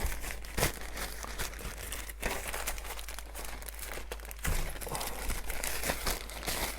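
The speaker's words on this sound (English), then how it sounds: "Rip that bag pretty good" Plastic packaging for a DJI Mavic Mini drone crinkles and rips in repeated sharp bursts close up, with rustling between the tears and no talking.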